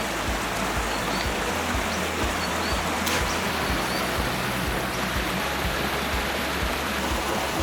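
Hares Creek flows steadily in a bush river crossing in Dharawal National Park, NSW, a continuous broadband rush of water with low gurgling close by and no voices.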